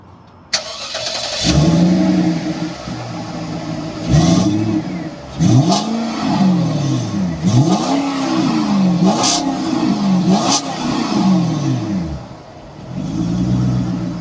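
A Cadillac XLR V8 engine revs repeatedly in rising and falling sweeps, loud and close, settling between bursts, with a sharp click near the start.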